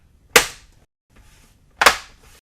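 Plastic rear casing of an EVO TP2 monitor snapping into place: two sharp, loud clicks about one and a half seconds apart, each with a short rattle after it, close by with no talk.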